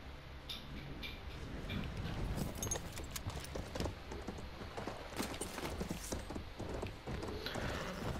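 Horse galloping in the Battlefield 1 multiplayer game, a steady rhythmic clip-clop of hooves running close and fairly loud under busy battle noise and brief shouts.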